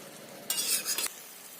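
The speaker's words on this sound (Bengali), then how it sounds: "গরম মশলা দিয়ে দিলাম। এটা দিয়ে একটু এখন কষাচ্ছি" Chicken with garam masala being sautéed for handi biryani: a single short burst of stirring and sizzling scrape in a pan lasts about half a second against quiet background.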